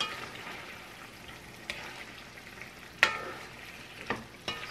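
Chicken liver frying in a pan of spicy Filipino chicken adobo, a steady soft sizzle broken by a few sharp spatula clinks and stirs, close and fairly quiet with no talking.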